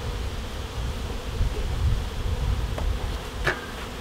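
Many bees hum steadily at close range inside a beehive with a feeder, a dense low buzz with a few light knocks and rustles.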